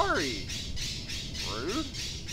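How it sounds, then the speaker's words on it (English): A baby woodpecker in the indie game I Love Walking Very Much gives two harsh descending squawks about a second and a half apart, over a steady pulsing background of game sound. "Oh, look, it's a baby woodpecker."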